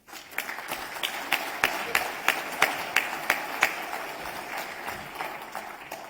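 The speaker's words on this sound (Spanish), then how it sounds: "Aplausos, por favor." An audience applauds during a speech at a Peruvian Medicine Day ceremony, a steady crowd of clapping with a few sharper claps standing out, fading toward the end.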